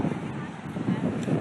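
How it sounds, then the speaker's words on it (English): Strong wind roars steadily against the microphone on a chilly evening walk outdoors at Virginia Beach, a continuous rushing buffet with no pauses. "It's crazy windy"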